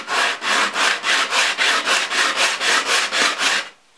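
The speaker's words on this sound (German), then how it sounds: "das Schleifpapier in einem 45 Grad Winkel ungefähr drüber führen" Sandpaper drawn over the edge of a small wooden piece at about a 45-degree angle, a close, loud, rasping scrape repeated in an even rhythm of about fourteen strokes, then stopping.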